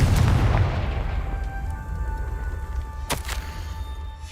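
Confringo fire-spell explosion in the Hogwarts Legacy video game: a single loud boom at the start decays into a low rumble, followed by a sharp magical crackle a few seconds later.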